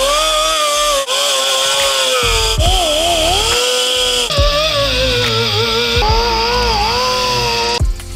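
A loud, steady power tool runs continuously while stripping old paint from car wiper arms, its whine wavering in pitch as the load changes, with a few brief dips and catches.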